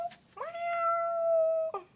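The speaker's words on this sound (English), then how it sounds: "That's my cat." A house cat gives one long, drawn-out meow lasting over a second, close and clear against a quiet room, bracketed by brief soft sounds.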